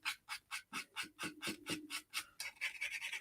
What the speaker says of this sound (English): coarse sanding stick